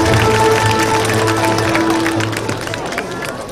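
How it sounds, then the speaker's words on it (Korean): Audience applause at an outdoor stage of a ceramics festival, a dense crowd clapping steadily and then fading over a few seconds, with a background hum and tones from the sound system. "큰 박수로 맞이해주시기 바랍니다"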